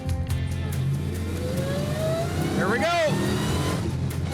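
A 6BBL Plymouth Road Runner muscle car accelerates hard in third gear toward 70, its engine note climbing steadily in pitch, with someone talking over the roar inside the car.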